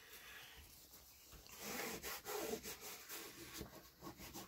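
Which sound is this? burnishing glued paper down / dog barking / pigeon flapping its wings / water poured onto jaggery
burnishing glued paper down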